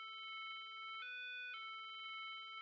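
A ringtone melody in Robotics;Notes Elite plays as a few pure electronic tones, clear and alone in quiet surroundings, with the pitch stepping up briefly midway.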